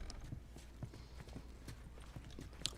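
Horse hooves clip-clop softly in the video game The Last of Us, a faint, steady patter of steps under quiet background ambience.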